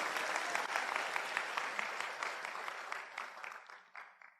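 A seminar audience claps together in a sustained burst of applause that gradually thins and fades toward the end, individual claps becoming more distinct as it dies away.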